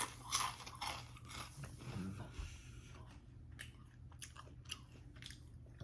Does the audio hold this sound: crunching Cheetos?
yes